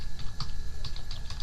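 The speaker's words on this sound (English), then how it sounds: "Let me type this first line here." Typing on a computer keyboard while entering a line of text in Word: soft, irregular key clicks in quick bursts, fairly close and steady, with no talking.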